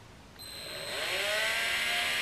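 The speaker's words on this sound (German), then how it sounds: "Jetzt nehmen wir aber nochmal den Bohrer und ich bohre einfach so 1-2 cm" A power drill boring a fresh hole a short distance beside an existing one in a DIY job, its motor whining up and holding a loud, steady pitch throughout.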